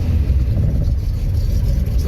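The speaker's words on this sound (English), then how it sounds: "I couldn't leave you guys without some straight 6 noises." A rebuilt Datsun L28 straight-six engine runs with a low, steady rumble, close and fairly loud, its choppy idle pulsing briefly.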